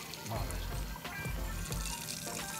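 Water poured into a cooking pot in a home kitchen while making pasta carbonara, a soft steady trickling stream, faint and close, with a voice talking over it.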